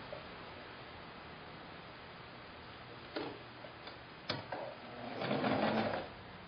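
A sewing machine stitches quilt strips together in a quiet room, running in a few short bursts before one longer steady run near the end.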